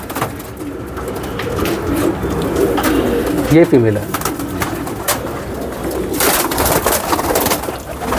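Small pigeons of a rare breed coo softly in a brief rumbling burst midway, surrounded by steady background noise, rustling, and a short spoken remark.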